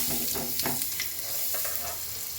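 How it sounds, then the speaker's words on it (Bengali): White cumin seeds temper in oil with a little butter, filling a brief stretch with a dense, even hiss of frying and a few faint crackles, close up and without speech. "এবার আমি তেলের মধ্যে একটু বাটার দিয়ে দিলাম, আর একটু জিরে ফোড়নে দিয়ে দিলাম, সাদা জিরে ফোড়ন দিয়ে দিলাম।"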